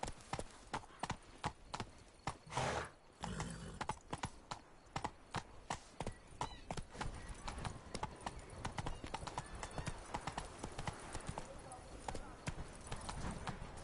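Hooves of Roach, the horse in The Witcher 3, clop in a fast, steady galloping rhythm, with game speech and ambience in the background.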